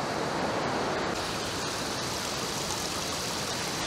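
Strong rushing water from a spring-fed stream beside a metal stairway at a rainy campsite in Natividad, Pangasinan, a steady close, loud broadband roar with no pauses.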